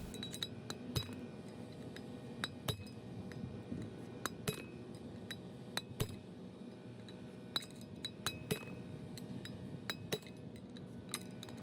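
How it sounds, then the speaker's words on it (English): Repeated sharp metallic strikes from hammering out a wheel bearing race on a 1985 Toyota Celica Supra ring out at irregular intervals over a low background rumble, bright clinking hits of metal on metal. "Now to repeat the hammering process, hit one side and then hit the other."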